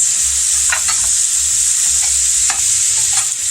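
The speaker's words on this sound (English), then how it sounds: "I've switched over to a stainless steel spatula so I can get these sausage into smaller pieces" A stainless steel spatula scraping and chopping sausage as it fries in a pan, loud steady sizzle throughout with several sharp metallic scrapes and taps scattered across it, close up and with no talk.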